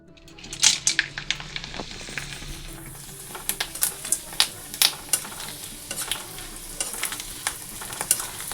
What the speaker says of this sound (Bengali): এখন চলে যাব আমি ভাজা বসিয়ে দিয়ে কোয়াশ ভাজা বসিয়ে দিয়ে